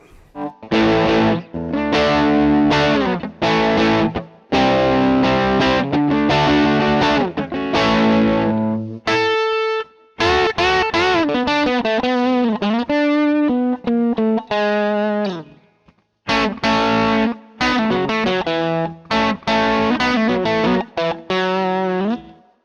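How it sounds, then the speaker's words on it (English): Distorted electric guitar on the bridge pickup playing chords and riffs with a bright, biting tone, loud and continuous with brief pauses between phrases. "a little distortion. This is the bridge pickup."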